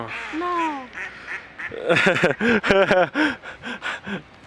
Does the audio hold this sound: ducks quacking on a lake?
yes